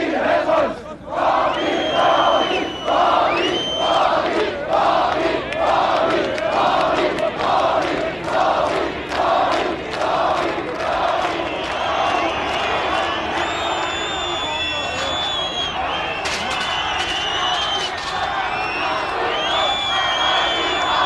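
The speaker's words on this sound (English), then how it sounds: "Meanwhile, a hostile crowd was gathering outside." A hostile crowd gathers outside during the 1989 fall of the Berlin Wall, a loud, sustained roar of many voices with rhythmic chanting and shouts, steady and dense throughout.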